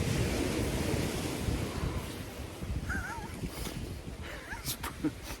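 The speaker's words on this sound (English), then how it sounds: "It's a bit windy" Steady wind roars and buffets across the microphone, with a faint, distant bird call or two cutting through.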